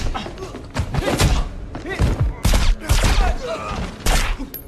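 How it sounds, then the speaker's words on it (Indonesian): Loud bursts of gunfire and heavy thuds come in irregular volleys, with a voice talking over the shootout. "aksi tembak-tembakan pun terjadi"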